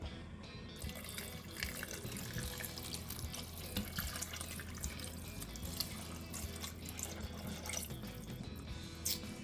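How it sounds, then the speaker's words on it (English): Beef broth poured over ingredients in an Instant Pot pot makes a faint, continuous splashing and trickling with small drips, quiet and steady throughout, with no speech. "And then you put the beef broth on top."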